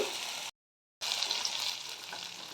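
Oil sizzles steadily in a pan while frying for masoor dal with vegetables, a dense close hiss that cuts out completely for half a second, then returns at the same level.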